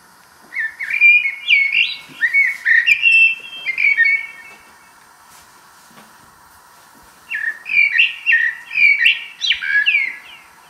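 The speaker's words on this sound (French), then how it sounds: "Le merle noir." Blackbird song close by: two bursts of fluting, warbled whistled phrases, separated by a quiet pause of a few seconds, clear against a near-silent background.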